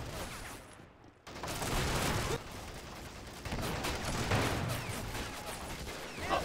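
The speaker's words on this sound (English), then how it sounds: "Small firefight, but nothing decisive." Small-arms firefight in Men of War: Assault Squad, dense crackling shots and bursts rolling almost continuously after a brief lull, loud and busy, with no voices.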